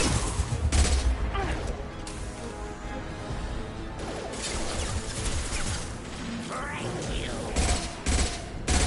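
Dense bursts of Mass Effect gunfire crackle across most of the span, with sharp crashes and rapid volleys staying loud and close throughout.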